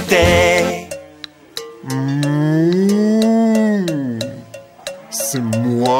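A drawn-out, bending cow moo in a French children's farm song, most likely a singing voice imitating the animal, held loud and continuous over several seconds with short breaks.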